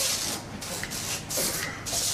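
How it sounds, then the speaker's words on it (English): Several short hissing bursts of an aerosol spray, close by, with brief pauses between them. "Well, use the spray then."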